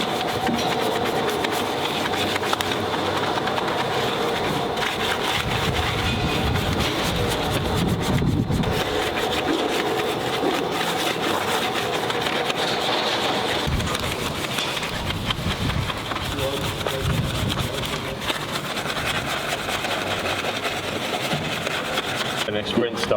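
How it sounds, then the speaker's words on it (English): A wheel barrel brush scrubs behind the spokes and inside the inner barrel of a car wheel during a detail wash, giving a steady wet rubbing and swishing that runs almost without a break, with brief voices in places. "Crisscross the inner wheel barrel brush behind the spokes to ensure a complete wheel cleaning"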